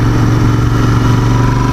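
A 2019 Royal Enfield Continental GT or Interceptor with a 650 parallel-twin engine drones loud and close, a steady low throbbing hum under acceleration with no voices over it.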